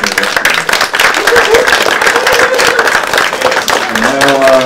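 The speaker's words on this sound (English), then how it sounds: "please give this outstanding panel a round of applause" A livestream audience applauds the crypto games and digital collectibles panel with loud, dense clapping, while voices and a few tonal sounds mix in toward the end.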